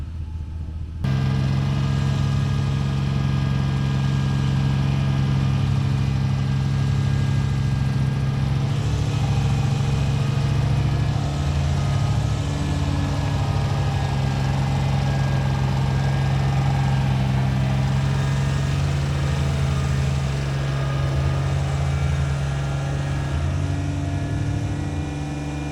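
A truck and a tractor run together while pulling out of mud, a loud, steady engine drone with a deep hum that starts abruptly and holds for the whole stretch, with slight shifts in pitch and no talking.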